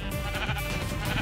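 Sheep bleat in the Minecraft video game, a steady wavering call filling the whole moment with no talking over it.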